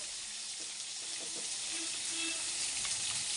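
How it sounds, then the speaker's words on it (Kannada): Garlic and curry leaves sizzle in hot oil in a pan for a tomato chutney, a steady close hiss with faint stirring taps and no voices. "ಈಗ ಬೆಳ್ಳುಳ್ಳಿ ಹಾಕಿದ್ದೀನಿ ಕರ್ಬೇವಿನ ಸೊಪ್ಪು"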